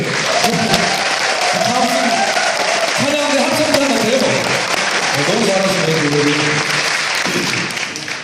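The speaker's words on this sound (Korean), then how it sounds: "스스로에게 박수 한 번 해" Audience applause at a church's 50th-anniversary celebration after a deacon's singing performance: a dense, steady wash of clapping fills the whole stretch while people talk over it.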